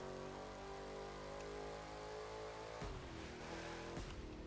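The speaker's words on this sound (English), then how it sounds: "Listen to that backfire." A revving car engine in the racing video game The Crew 2 drones steadily, then two sharp pops burst out near the end like a backfire.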